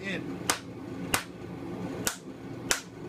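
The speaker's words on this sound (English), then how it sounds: "I'm hammering into the bar." Blacksmith's hammer strikes a hot metal bar on an anvil during forging, four sharp ringing blows spaced unevenly, loud and close over a steady low background hum.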